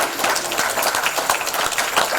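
Applause from an audience at a police and fire awards ceremony, a dense steady patter of clapping held at an even level for a couple of seconds.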